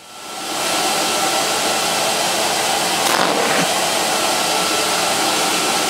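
A vintage Electrolux XII vacuum cleaner starts up and runs with a steady, loud whooshing drone of motor and airflow, close by, with a faint shift in pitch partway through and no talking.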